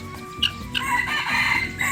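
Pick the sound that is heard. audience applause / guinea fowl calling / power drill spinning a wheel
guinea fowl calling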